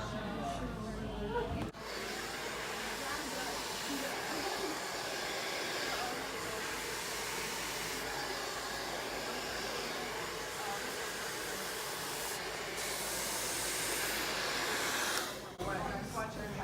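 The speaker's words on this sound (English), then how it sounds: "Really follow the brush with your blow dryer." A blow dryer hums in a steady, whooshing drone from start to finish while styling hair with a round brush, with a brief dip near the beginning and again near the end.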